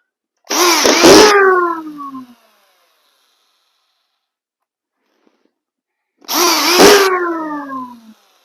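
Screw gun driving screws into a drywall ceiling, two separate bursts of whining, rising motor noise, each roughly two seconds long and loud up close, with silence between them.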